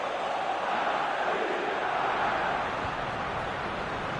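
A large stadium crowd in eFootball PES roars in a broad, sustained wash of cheering that swells slightly and then holds steady, with no talk on top.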